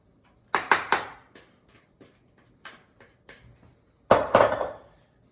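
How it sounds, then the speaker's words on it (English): Sweet potato mixture spooned into a dish for cauliflower stuffing: a series of short clinking and scraping knocks, several close together at first, then sparse lighter taps, and a final cluster of louder scrapes. "Then we're going to take our sweet potato mixture, spoon it all in."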